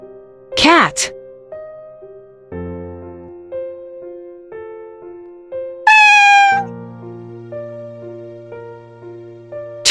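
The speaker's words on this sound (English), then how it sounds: "Cat." A domestic cat meows twice close up, drawn-out rising and falling cries, set against a gentle children's music backing that carries on throughout.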